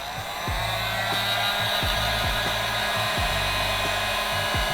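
A heat gun blows a steady loud rush of hot air while wrap is peeled off a Lamborghini Huracan, with a continuous close whoosh and a pulsing low motor tone underneath, no speech.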